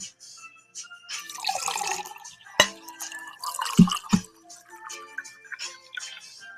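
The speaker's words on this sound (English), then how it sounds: "That is water. Yeah, beautiful water. With my glass straw." Water poured and sipped through a glass straw indoors, heard as scattered close drips, splashes and slurping gurgles with sharp clinks of glass, irregular and intermittent over several seconds.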